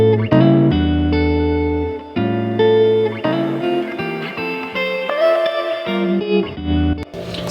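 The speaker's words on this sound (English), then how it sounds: "it's giving it some reverb and a high pass filter and some bit crush at the same time" A synth melody plays through heavy effects: washy reverb, thin high-pass filtering and gritty bitcrushed distortion, steady and fairly loud throughout.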